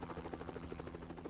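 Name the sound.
helicopters flying overhead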